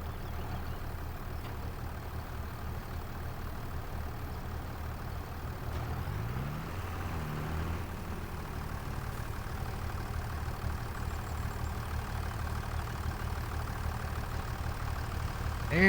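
A tractor engine idling in the Farming Simulator 25 video game, a steady low rumbling drone that holds even and continuous throughout, moderately loud with no talking.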